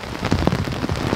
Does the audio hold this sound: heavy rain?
yes